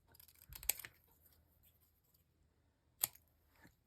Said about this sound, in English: Another thing to do is I'm going to cut them and make it 2 words instead of 1.